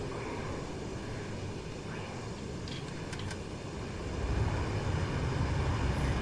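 Jet engine throttling up in the DCS flight simulator, a steady broadband roar that swells louder partway through, with faint tonal blips above.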